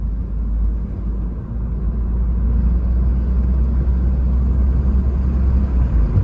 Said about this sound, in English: we are cruising. We'll show you how it's shifting.